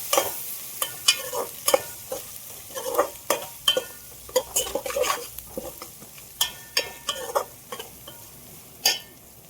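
Curry leaves dropped into hot oil in a pan while cooking chicken mandi crackle and splutter in a quick, irregular run of sharp pops and stirring clatter, close and fairly loud, with no talking.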